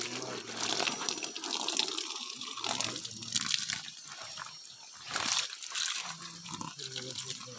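A mountain stream in a natural setting flows strongly with a steady rushing, splashing wash of water that rises and falls slightly, and a voice is heard now and then.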